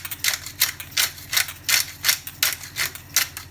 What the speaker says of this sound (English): And then we'll go in with good grinding of black pepper